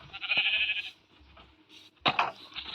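Minecraft sheep bleating twice in a video game, loud and close, a wavering baa followed by a pause and a second sharper bleat.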